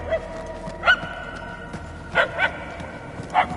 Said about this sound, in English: Whoever's barking must be close.